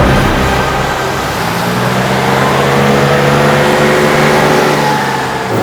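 A car driving with a steady, loud mid-range engine drone and road noise, holding constant throughout with no talk over it.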